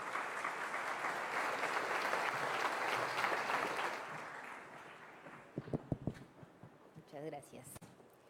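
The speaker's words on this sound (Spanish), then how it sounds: "Le damos un fuerte aplauso a todos los invitados y adelante con el panel." Audience applause for guests at a social security and public health panel, a dense, steady clapping that fills the room for about four seconds before fading as a single voice begins speaking.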